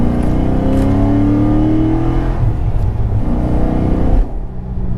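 A cammed 2006 Corvette Z06 making 605 horsepower pulls hard uphill in second gear, its loud engine roar climbing steadily in pitch from inside the car before the throttle eases off near the end.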